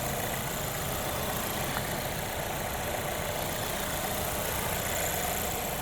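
A 2021 Volvo V90 Cross Country T6 engine, 316 horsepower, idles under the open hood with a steady, even hum and fine mechanical whir. It is constant and close, with no talk.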